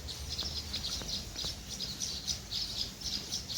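Small birds chirp in quick high bursts near a home after rain, repeated at a steady pace over a constant background hum.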